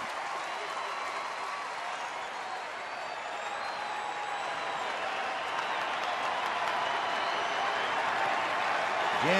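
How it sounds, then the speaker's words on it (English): Crowd at a minor-league baseball game cheering and applauding a pitcher, a dense, steady roar of clapping that swells slightly toward the end, heard from within the stands. "the crowd trying to cheer him on"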